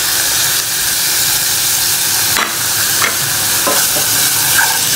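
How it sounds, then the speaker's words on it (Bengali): Garlic, ginger and cumin paste sautéed in a pan for potoler dorma, sizzling loudly and continuously, with a few sharp spoon scrapes and clinks from stirring cutting through the steady hiss. "এটাকে আমি এখন ভালোভাবে কষিয়ে নিব।"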